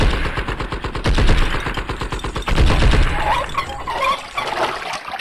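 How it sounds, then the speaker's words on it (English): Fireworks in the video game Blood and Bacon: a dense, rapid crackle of bursts and pops, loud and continuous like volleys of gunfire, thinning toward the end with scattered fizzing pops. "we got fireworks"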